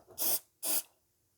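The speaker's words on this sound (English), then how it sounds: "Quick spray with that." Two short bursts of aerosol spray from a can, each hissing for about a quarter second with a brief pause between, applied during a Commodore 64 lid catch repair, close and alone.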